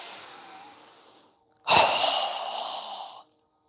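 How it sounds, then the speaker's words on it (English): A yoga student's strong, forceful exhale whooshes out loud and close, following a softer steady breath and a short pause, then tapering off after about a second and a half. "Strong exhale."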